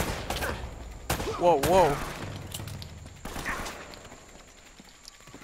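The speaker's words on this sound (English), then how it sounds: "You always seem to be getting shot at. They're shooting at you too" Enemies fire on the player in Uncharted: Drake's Fortune, with a few sharp shots and bursts under background action. A man exclaims briefly during the shooting.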